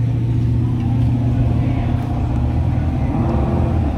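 Holden EJ ute with a big block Chev engine rolling onto a weighbridge, with a loud, steady low engine rumble close by and no talk.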